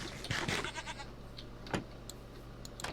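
A goat in the Minecraft video game bleats in a few short, close bursts near the start, followed by scattered sharp clicks over a low steady game hum.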